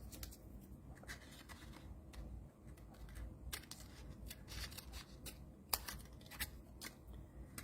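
Scissors snip through paper for a Fourth of July cracker treat craft, a run of crisp, irregular cuts close to the mic, quiet, with light paper rustling and no talking.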